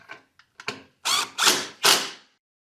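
Screwing down a part on a Miller Onan 225NT welder: a few quick ratchet clicks, then three longer grinding ratchet turns in steady succession, close and clear with no talking.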